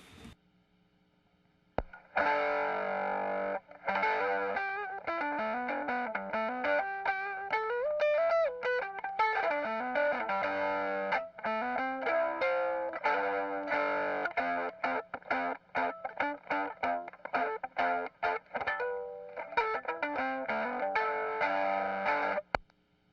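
A bass guitar plays through a Caroline Guitar Co. Hawaiian Pizza fuzz pedal, with a compressor also on. Thick, distorted bass notes and riffs ring out loud and close, with sustained tones and quick choppy phrases.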